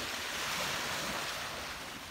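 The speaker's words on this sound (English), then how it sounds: "this is part of the Atlantic Ocean right here." Atlantic Ocean waves wash ashore at Lewes, Maryland, giving a continuous broadband roar of surf. Wind buffets the microphone over the steady rush, and no one speaks.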